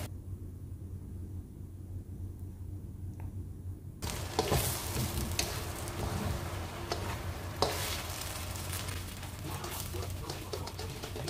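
Fried chicken wings are stirred with salted chili paste in a pan, sizzling steadily with scraping and clinking of the utensil, close and continuous, after a quieter low hum.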